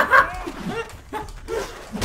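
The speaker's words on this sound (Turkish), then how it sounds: "köpek geldi lan köpek sesi var" A dog gives a few short yips and barks close by, mixed with people talking.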